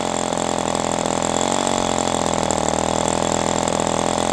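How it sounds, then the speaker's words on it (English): A Magnum 65 GP model airplane engine fitted with a three-blade prop idles steadily and loudly at close range, a continuous buzzing drone with no break and no voices. "No throttle stop screw on this either, so I'm just going to set it here and see if it holds an idle."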